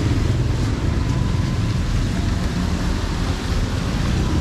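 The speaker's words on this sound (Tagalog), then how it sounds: "Ayan, ang lakas na ng ulan." Heavy rain pours down in a steady, dense hiss with a low, broad rumble, loud and unbroken throughout with no voices.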